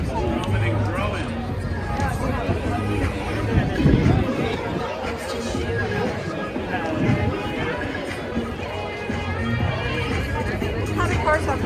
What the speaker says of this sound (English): The crowd keeps growing and growing.